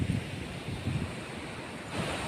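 Sea waves wash onto the shore under a clear sky, a steady broadband surf roar with gentle surges and some wind noise across the microphone, moderately loud and continuous with no voices.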